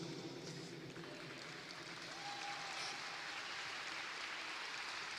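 An audience applauds steadily and faintly at a distance, a continuous wash of many hands that neither builds nor fades over a few seconds.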